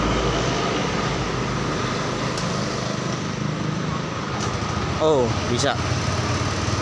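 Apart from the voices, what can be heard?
Yamaha Mio 125 injection motorcycle kick-started, engine running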